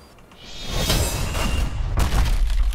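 A cannon shot slams into a wooden pirate ship in the naval battle game Unearned Bounty, a heavy booming impact with crunching debris and a rushing swell that keeps rumbling loudly for a couple of seconds.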